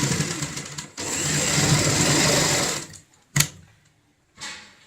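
A sewing machine stitches a homemade door mat, whirring loudly and steadily for about two seconds, then stopping with a sharp clack before a short final burst of running.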